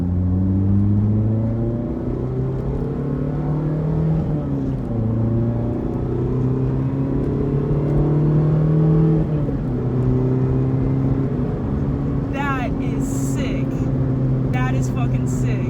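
A Mazda Miata RF fitted with an ISR Circuit Spec exhaust accelerates hard from 2,000 rpm in second gear, engine note climbing steadily then dipping at the shift into third before rising again, loud and close from inside the car, with brief chatter near the end.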